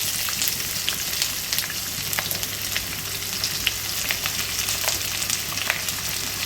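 Whole spices crackle and sizzle in hot oil in a pot at the start of a one-pot chicken dum biryani, a steady close frying hiss dotted with small pops, with no talking.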